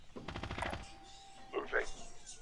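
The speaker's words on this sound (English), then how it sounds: "Receiving hostile fire." Short bursts of gunfire in Call of Duty Modern Warfare (2019), a quick rattling volley followed by a couple of fainter shots, with a voice talking faintly underneath.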